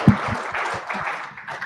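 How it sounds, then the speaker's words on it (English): A conference audience claps in a short, uneven burst of applause lasting under two seconds, fairly close and fading slightly toward the end. "Round of applause."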